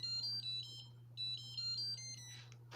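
A mobile phone ringtone plays a bright, repeating electronic melody in short phrases over a steady low hum, fairly faint and alone, with no talk.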